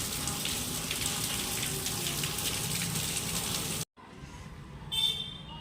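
Steady broadband rush of rainwater pouring or dripping down from above, continuous and fairly close, briefly cutting out near the end before resuming with a brighter splash.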